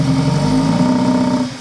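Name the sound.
engine held at about half throttle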